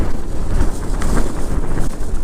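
Strong wind buffets a microphone outdoors on a motorcycle ride, a loud continuous low roaring rumble with gusty surges throughout.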